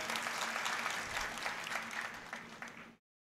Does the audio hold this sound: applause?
yes